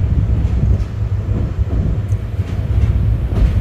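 An intercity express train runs on the Dhaka to Chittagong line, heard from inside a luxury cabin of a new Korean coach as a steady, loud low rumble with continuous rolling noise.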